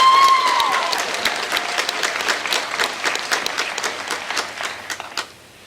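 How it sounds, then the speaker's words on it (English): An audience at a high school graduation ceremony applauds a student team, the clapping full and steady for several seconds before tapering off at the end. "Can we just take a moment and applaud them for this great accomplishment?"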